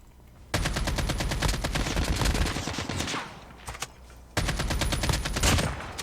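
Automatic gunfire in the Call of Duty Mobile video game, two long, loud rapid-fire bursts separated by a brief pause with a few scattered shots, dense and close without talk.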